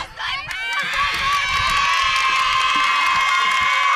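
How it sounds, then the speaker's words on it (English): A crowd at a Cypress College softball game cheers and shouts loudly after a victory, with high excited voices sustained throughout and talk mixed in. "as Cypress cheers on that victory here on SportsNetUSA.net"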